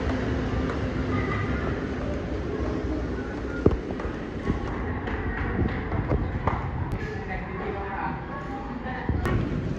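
Steady rumble and rattle of an LRT light rail train in motion, heard from inside, with occasional clanks and squeals over the continuous rolling noise.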